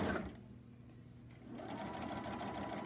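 A sewing machine stitches fabric with thread, a brief faint whir at first, then a steady close mechanical hum after a short pause; no speech.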